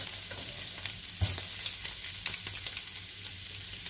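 Minced garlic sizzles and fries in a hot pan for keto Chinese-style rice, a steady close crackle with a brief louder burst of stirring partway through, no voices over it.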